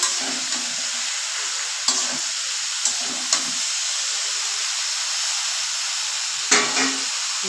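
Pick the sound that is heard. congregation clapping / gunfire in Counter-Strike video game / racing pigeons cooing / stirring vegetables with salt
stirring vegetables with salt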